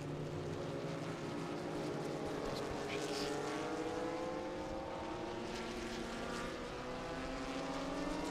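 Vintage race cars roar toward turn one at Road America as the green flag drops, with several engines droning and rising in pitch as they approach, heard under continuous commentary.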